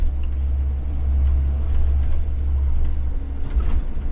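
A 2023 Blue Bird Vision full-size school bus with a 7.3 Godzilla engine runs steadily, its deep low rumble continuous and close throughout with no talking.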